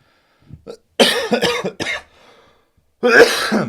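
A few sharp, close coughs in quick succession, with a brief raspy throat sound in between, then another harsh cough burst.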